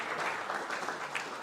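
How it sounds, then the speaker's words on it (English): Brief burst of group clapping from workshop participants welcoming a volunteer, many hands in a steady, fairly close wash of applause lasting just over a second. "Big applause."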